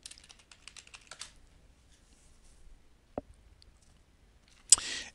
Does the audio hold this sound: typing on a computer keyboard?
yes